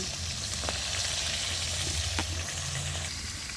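Fish head, from a silver carp, frying in hot oil in a home kitchen, giving a steady dense sizzle throughout with a few soft clicks of stirring, close and alone without voices.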